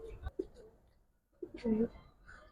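Pairs of giribaz and coloured pigeons give a few soft, low coos, quiet and close, with brief gaps between calls.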